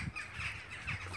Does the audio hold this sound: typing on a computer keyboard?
no